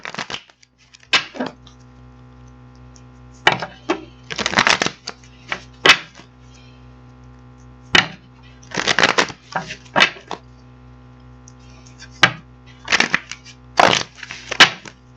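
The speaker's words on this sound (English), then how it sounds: "I'm going to get these cards shuffled up" Intermittent bursts of riffling and snapping as a deck of tarot cards is shuffled, several quick flurries separated by quieter pauses.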